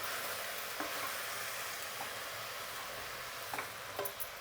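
Shredded cabbage in hot oil sizzles steadily in a pan, with a few soft scrapes and clinks of stirring near the end.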